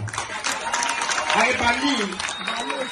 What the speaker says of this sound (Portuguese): muito parabéns e aplauso para o Banilson